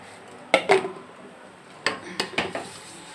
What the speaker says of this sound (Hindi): अब इसमें मैं 1 किलो 700 ग्राम करीब चीनी डाल दे रही